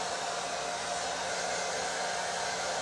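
A hair dryer blowing on fresh paint on a Dollar Tree light-up jack-o'-lantern, a continuous close whooshing roar with no pauses or talking.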